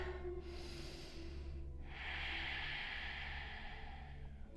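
Deep breaths drawn in and pushed out during a hatha yoga stretch, close and steady, with a long airy exhale swelling after a brief pause.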